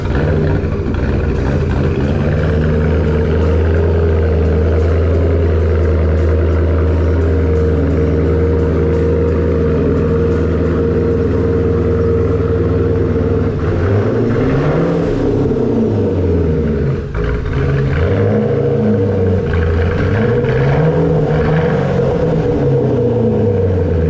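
A V8 car engine with an automatic transmission idles with a deep, steady rumble, loud and close, swelling into a few rising and falling revs in the second half, with no talking.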